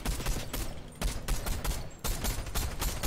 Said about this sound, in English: Ooh, shots somewhere.